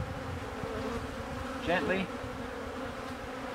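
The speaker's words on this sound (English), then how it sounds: "there's lots of bees here" Honeybees buzz in a dense steady drone as frames are shaken into a nuc during a hive split, with a brief spoken word over the hum.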